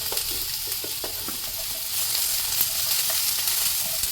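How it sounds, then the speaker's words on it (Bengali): Potatoes and carrots fry in hot oil with the remaining vegetables added, giving a steady close sizzle broken by scraping stir strokes, getting somewhat louder partway through, with no speech. "এবার আমি বাকি সবজিগুলো এর মধ্যে দিয়ে আর একটু ফ্রাই করে নেব"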